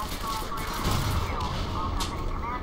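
Grenade launcher explosions in the video game Quake 4 form a dense, continuous burst of booms and gunfire. They are loud and sustained, with a voice talking faintly underneath.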